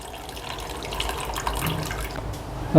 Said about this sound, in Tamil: புளியை வந்து நல்லா நம்ம மையாக கரைச்சிக்கணும்